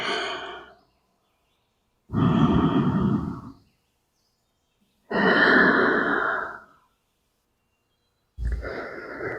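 Slow, deep breathing during a somatic Pilates mat class: four long, drawn-out breaths, close and soft, with near silence between them and no talking.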